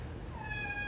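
A black cat gives a single short, rising meow, close by over a steady background hum.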